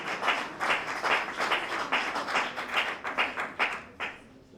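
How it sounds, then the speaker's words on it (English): Church congregation clapping hands in praise after a healing testimony, a dense continuous burst of many hands with rhythmic surges, loud and close, gradually thinning out toward the end. "Let's clap our hands beautifully for Most High God"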